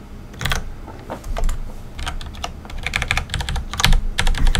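Computer keyboard typed in quick, irregular bursts of crisp, close keystrokes while entering Emacs shortcut keys, with short pauses between clusters and no voice.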